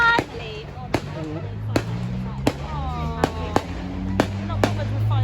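Fireworks at Weston Carnival go off as a series of sharp bangs roughly every half second to a second, some distance away, while people talk and a voice can be heard in between.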